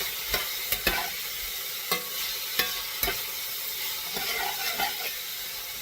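Garlic sizzling in a pan, a continuous bright hiss punctuated by scattered scrapes and taps as it is stirred, fairly quiet and with no voices.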